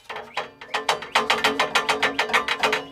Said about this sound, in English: this heat shield on the muffler is making noise